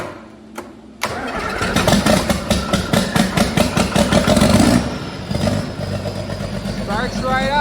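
A mixer tractor engine cranks after a short pause, catches and fires up, then keeps running with a steady, loud rhythmic chug close by.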